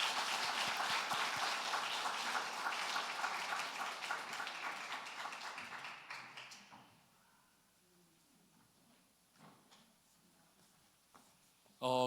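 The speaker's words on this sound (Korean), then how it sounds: "우리 진심으로 큰 박수로 함께 축복하겠습니다" A church congregation at a Sunday afternoon worship service applauds warmly; dense clapping for about six seconds, then tapering to scattered faint claps and quiet room noise, with a sudden loud burst at the very end.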